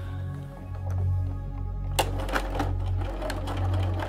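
A sewing machine stitches hexagon quilt pieces with a steady motor hum, a sharper clicking rattle starting partway through, moderately loud and close with no talk.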